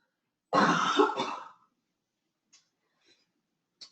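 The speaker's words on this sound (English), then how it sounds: "I have to take another cough break" A single loud, harsh cough burst lasting about a second, up close, followed by near silence with a few faint small ticks.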